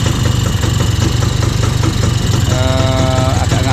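An orange Bajaj three-wheeler auto rickshaw under restoration, with dirty spark plugs, runs loud and close with a rough, pulsing engine chatter, rising into a brief throttle rev near the end.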